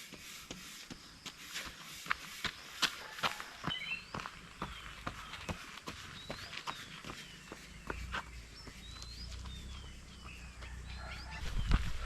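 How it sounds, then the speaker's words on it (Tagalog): Birds chirp and trill outdoors while footsteps patter rhythmically on a path, the steps louder and closer than the scattered calls. "ganda ng tunog ng mga ibon"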